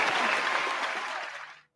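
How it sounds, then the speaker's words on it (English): A small group of people clapping together in a studio show setting, a dense burst of hand claps that holds steady then cuts off abruptly. "That was us clapping."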